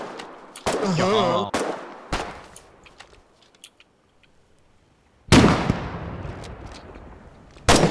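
Rifle shots in the war game Foxhole: a few sharp, loud cracks spaced seconds apart, the last one cut off at the end, with a brief burst of other game noise near the start.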